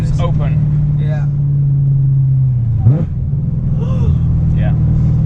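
A 730-horsepower Corvette engine idles with its exhaust valves open, a deep, loud, steady rumble that dips and then blips briefly, with people talking excitedly over it.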